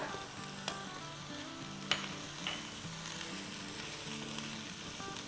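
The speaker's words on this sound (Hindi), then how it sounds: "इसको सौटे करेंगे।" Ingredients for channa dal pulao sauté in a pan with a soft, continuous sizzle, punctuated by occasional clicks and scrapes of stirring, fairly quiet and without voices.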